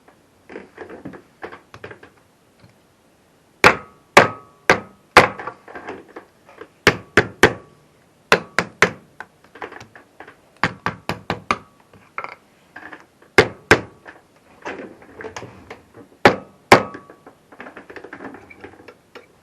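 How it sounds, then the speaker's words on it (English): Sharp, irregular taps of a hammer striking a Yamaha DT 250 motorcycle cylinder during removal, coming in quick clusters with short pauses between. "I guess I can try the little tap with the hammer."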